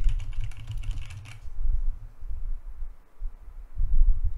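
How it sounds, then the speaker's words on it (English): Keystrokes from typing on a computer keyboard, tested with a SteelSeries Alias USB microphone, fairly busy for the first second and a half, then softer scattered taps under a low steady rumble of a fan blowing toward the mic. "I'm typing."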